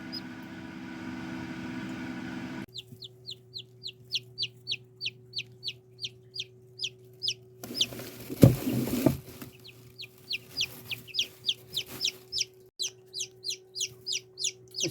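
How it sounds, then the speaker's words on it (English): A young chick cheeps in rapid, evenly spaced high peeps, loud and close, pausing briefly amid a burst of rustling handling noise before the steady cheeping resumes. "I didn't think I'd be able to get the cheeping on camera."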